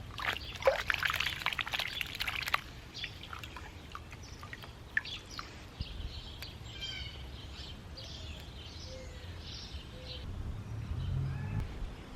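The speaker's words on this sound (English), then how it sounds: "now we'll see if we're able to shake this in water and get rid of all the soil" Onion seedlings are shaken in water to wash soil from their roots, a faint splashing and trickling early on. Then quieter dribbles follow while birds chirp softly in the background of an outdoor garden.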